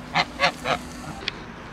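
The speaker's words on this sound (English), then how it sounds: "I never knew geese could make this sound." Geese give three loud, evenly spaced honks close by, followed by a brief fainter call.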